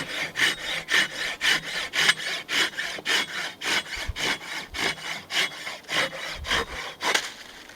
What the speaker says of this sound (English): I'm going to go saw up a little bit of firewood